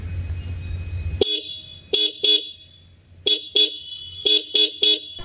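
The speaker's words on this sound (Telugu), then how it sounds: "ఫ్రంట్లో డ్యూయల్ హార్న్స్ ఇచ్చారు. హార్న్ సౌండ్ కూడా వినడానికి లౌడ్గా ఉంది." Dual front horns on a TVS Apache RTR 160 motorcycle honking loudly and close by: a single blast, then a quick double, another double, and a final run of three short toots, with quiet pauses between bursts.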